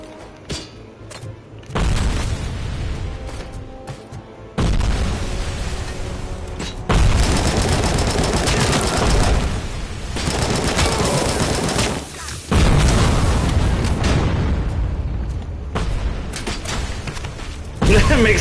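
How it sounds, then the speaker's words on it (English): Video game gunfire in the Robocop game rattles in loud, dense bursts with booming thuds, separated by short quieter gaps, heavy and close throughout. "gunshots and screaming in the background"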